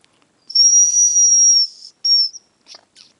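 Two hunting decoy whistles for autumn upland game birds, imitating male and female calls: a long, loud, steady high whistle tone, a short repeat after a pause, then a few faint chirps, with no talk.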